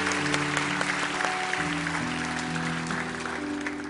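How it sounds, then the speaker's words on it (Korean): Congregation applauding in a church to honour elders, a broad steady wash of clapping throughout at a moderate level, with sustained organ or keyboard tones beneath it. "홍정석 장로님, 우리 큰 박수로 17분 격려해 드리고 축복합니다."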